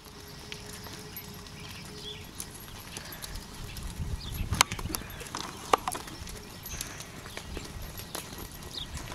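Hooves of a ridden horse clip-clop in a steady rhythm on an arena surface, moderately close with a few sharper clicks, under faint background noise.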